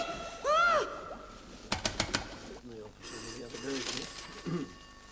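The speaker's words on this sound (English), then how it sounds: "Phone's ringing, Charlie." An old telephone bell rings in short sharp bursts, with cartoonish voices and squeaky sound effects around it.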